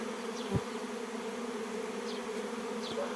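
A wild swarm of bees settles in a tree, holding a steady, faint buzzing hum. A few individual bees zip briefly past nearby.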